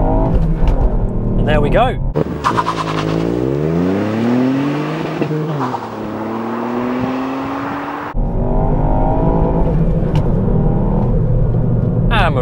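A 2018 Ford Fiesta ST launches hard in first gear, its engine revving up through a rising pitch, then a gearchange and continued acceleration, loud and close inside the car, with someone talking briefly over it.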